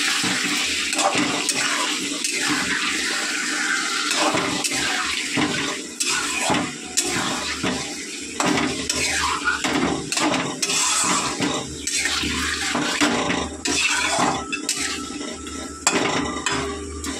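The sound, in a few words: meat being fried and stirred in a pan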